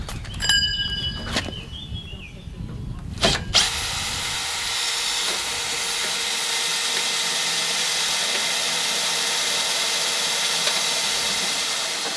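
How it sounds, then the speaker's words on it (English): A power drill whirs steadily and loudly for several seconds after a few brief clicks and bumps, running continuously to the end, during restoration of an old Thwaites dumper. "Try to drill it like this."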